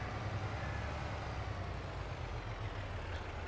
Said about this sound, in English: You switched to your noisy tractor